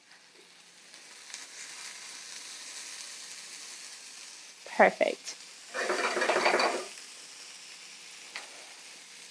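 Pancetta sizzles in a dry frying pan with no butter or oil, a soft steady crackle joined by a louder burst of popping and spitting, while a voice speaks briefly.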